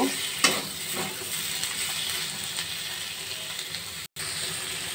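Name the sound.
stirring chopped tomatoes frying in a pan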